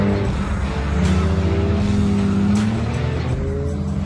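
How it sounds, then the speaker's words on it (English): A cheap car's engine idles and revs steadily while warming up on an ice and snow racetrack, a loud, close, continuous drone with a few sharp rises, with no voices over it. "Just warming up the car"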